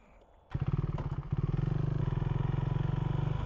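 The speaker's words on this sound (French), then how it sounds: "Je vais mettre ma moto là-bas." A motorcycle engine starts up close by and settles into a steady, throbbing idle with a chugging, rhythmic putter and some light clatter.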